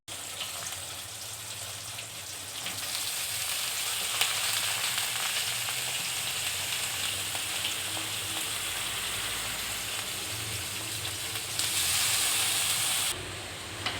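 Raw banana pieces fry with onions in a pan, giving an even, continuous sizzling hiss at moderate volume that swells slightly toward the end, with no talk.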